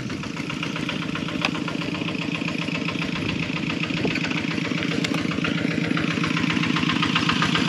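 A tractor engine drawing near on a jungle road by the Beng Mealea temple near Angkor Wat, a steady, fairly loud chugging throb that holds throughout with no talk.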